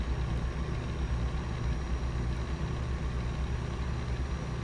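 Simulated heavy truck engine from American Truck Simulator, a Cummins N14 with blow-by whistle, droning steadily with constant low rumble throughout, no speech.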